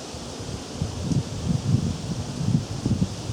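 Outdoor wind buffets a camera microphone, giving a steady rushing hiss with low, uneven gusts that swell and fade throughout.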